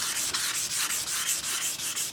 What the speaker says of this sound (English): so I'll do the last bit by hand, just 600 grit